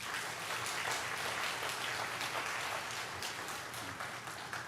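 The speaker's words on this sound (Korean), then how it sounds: "큰 박수로 환영해 주시기 바랍니다" Applause from a church congregation welcoming a pastor to the pulpit at an autumn revival service, a steady, dense wash of clapping sustained throughout at moderate distance.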